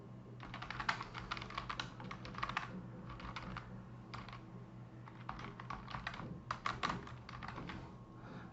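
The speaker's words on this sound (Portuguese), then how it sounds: "Eu vou vir aqui e vou digitar o texto." Text typed on a computer keyboard, quiet close clicking in irregular bursts with short pauses, no voices.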